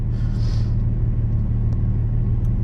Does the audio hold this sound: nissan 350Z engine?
yes